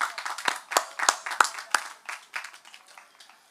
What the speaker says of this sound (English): I want us to give a round of applause to the team of Natural Resources